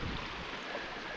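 A waterfall on a small island in Scotland roars as a dense, steady broadband rush of falling water, loud and close, with no pauses.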